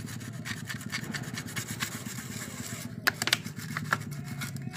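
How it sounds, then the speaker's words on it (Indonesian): Sandpaper rubbed slowly by hand over the piston of a generator engine that has lost compression, giving a steady close scraping rasp with a few sharper scuffs near the end. "menggunakan amplas pelan-pelan."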